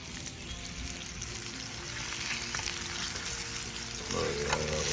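Frog legs frying in a pan at a fishing-trip cook-up, a steady close sizzle that holds for the full stretch and grows slightly louder near the end.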